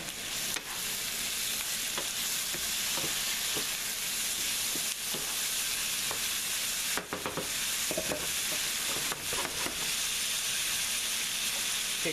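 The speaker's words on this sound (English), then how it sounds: "now we're going to add the one chopped tomato" One chopped tomato sizzles with garlic in a hot pan for Spanish cod with tomatoes and saffron, a steady close frying hiss with scattered crackles and occasional scraping stirs.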